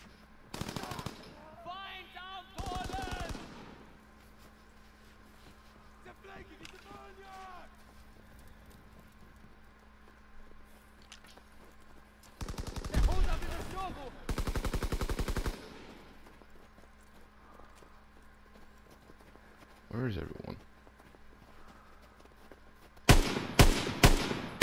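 Bursts of automatic gunfire in Call of Duty: WWII, short rattling machine-gun volleys separated by quiet stretches, moderately loud, with occasional faint voices in between.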